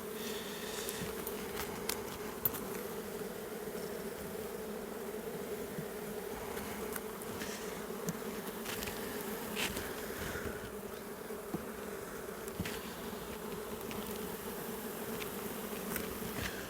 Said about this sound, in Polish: gniotę te pszczoły